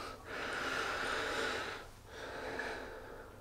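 Two long nasal sniffs of bay rum aftershave, close and fairly loud, each lasting over a second with a short pause between, no talking.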